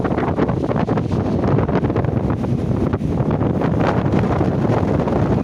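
Strong wind at Kadana River dam buffets the microphone in steady, loud gusts, a constant low roar with no voices.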